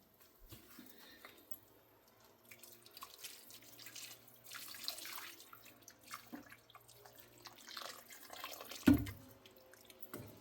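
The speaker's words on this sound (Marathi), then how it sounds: "आता यात गरम पाणी सोडायचं आहे आणि उकळू द्यायची आहे भाजी" Hot water is poured into a pan of Marathi-style drumstick curry (shevga bhaji), giving a steady watery rush with a louder splash near the end, close by and with no voices.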